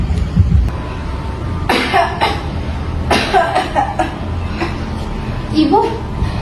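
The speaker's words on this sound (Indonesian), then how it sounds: "Ibu batuknya tambah parah ya?" Several rough, hacking coughs from a woman exposed to thick smoke from burning plastic come in separate bursts, close and loud, with a quieter pause between them.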